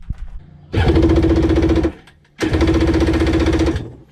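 A 650 Wavejammer jet ski engine cranks over without catching, two loud rapid chugging starter bursts of about a second each with a short gap between them, close up and with no one talking.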